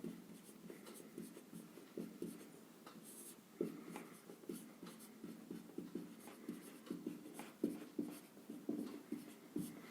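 Pen scratching across paper while a maths solution is written out, a steady run of soft scraping strokes and taps close by, with no talk.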